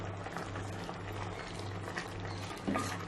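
Mixed vegetables simmer in a coconut gravy for Kerala Iyer avial kootan, giving a soft, continuous bubbling over a low steady hum with a small clink near the end.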